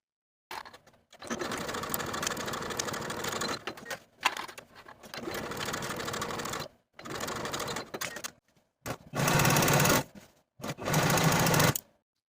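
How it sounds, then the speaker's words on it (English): A sewing machine stitches the underarm seams of sleeves for a handmade Valentine's Day dress at a 5/8 inch seam allowance, running in about five steady bursts separated by short pauses. "Sew these seams with a 5/8 inch seam allowance and finish your seams"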